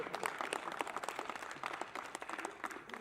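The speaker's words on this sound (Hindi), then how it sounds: "अब तालियां चाहिए मेरे को आपकी।" An audience at a Hindi poetry recital applauds, a dense crackle of many hands clapping at moderate volume, filling the whole stretch without letting up.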